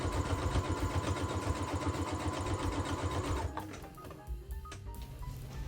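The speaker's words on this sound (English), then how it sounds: "And then we're gonna sew along all the borders." Sewing machine stitching along fabric borders, a fast steady mechanical whir for about three and a half seconds before stopping, followed by faint handling noises close by.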